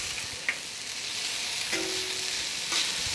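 Za'atar chicken fried rice frying on a griddle, with a steady hiss of oil throughout and a few sharp scraping clicks as the rice is flipped and mixed, no voices.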